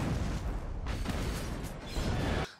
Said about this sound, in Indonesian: Selang tak berapa lama kereta pun meledak dan berhasil membunuh semua penumpang.